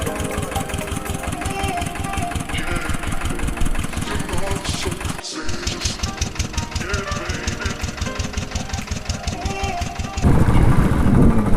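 A motorcycle engine runs steadily on a country road toward Shimla in Himachal, a fast regular throb with a brief drop midway and a louder rougher stretch near the end.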